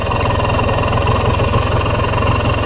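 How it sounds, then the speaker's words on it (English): A Polaris Xplorer 250 4x4 ATV engine idles steadily up close, a constant low rumbling putter with even vibration and no talking. "Yeah, she idles down nice, doesn't stall."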